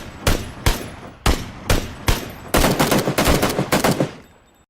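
Gunfire from a video game battle royale match: several loud, spaced single shots, then a rapid burst of automatic fire that fades out at the end, with no talking.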